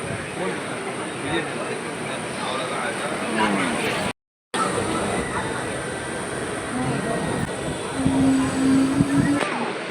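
Brindavan Express train rolling out after departure from Chennai, a continuous interior rumble and rattle of the moving carriage, close and steady, with a brief dropout midway.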